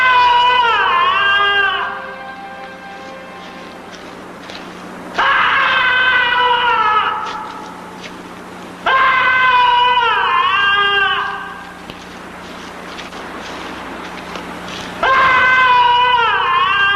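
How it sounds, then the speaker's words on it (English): Screams attributed to a haunted human skull at Bettiscombe Manor: long, wailing, pitch-bending shrieks repeat in four loud surges over a low steady drone, each fading into a softer moaning tail. "the skull's angry screams reverberate for miles"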